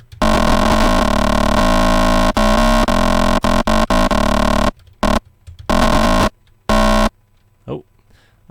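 Roland JP-8080 synthesizer playing a loud, harsh distorted tone with buzzing harmonics, sustained at first then chopped into short stabs and bursts separated by silences.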